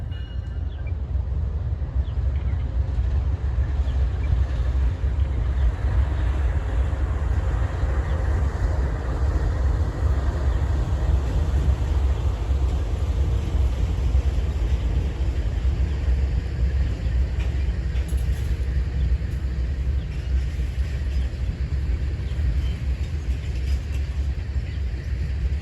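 A slow-moving freight train of ethanol empties, led by a GEVO locomotive with a Canadian Pacific GEVO second, rolls past at Berea as a steady, loud low rumble with a continuous rail roar and no voices.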